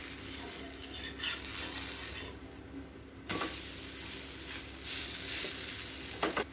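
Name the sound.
bottle gourd adai dosa sizzling on pan after flipping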